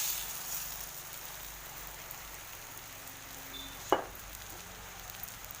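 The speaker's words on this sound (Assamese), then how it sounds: "খুব ধুনীয়াকৈ ফেটি ভাজি থাকিম" Beaten eggs fry in a pan with dhekia fern greens, giving a soft, continuous sizzle and crackle like light rain. A single sharp clink cuts through near the end.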